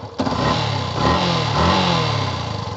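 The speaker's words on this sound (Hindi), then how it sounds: "सबसे पहले आप इंजन का साउंड देख लें" A Yamaha FZS V2.0 motorcycle with 43,000 km on it runs up close. Its engine note lifts briefly around a second in and then settles into a steady, throbbing rumble.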